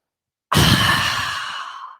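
A voice imitating a sharp gasping yoga inhale with strained breathing, one loud breath that starts abruptly and trails off slowly over about a second and a half.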